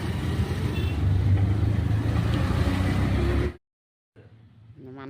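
A motor vehicle engine runs with a loud, steady low rumble for about three and a half seconds, then cuts off abruptly into silence before faint background noise returns.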